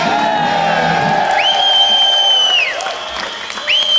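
A festival crowd at a live Greenbelt Festival 2003 concert cheers and applauds continuously, with loud whoops and sliding whistles rising above the steady clapping.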